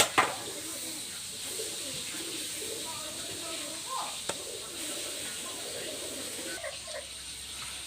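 Pigeons of the Teddy Golden Kamagar breed, kept for sale, give soft, low, intermittent coos against a quiet background, with a few brief knocks and rustles.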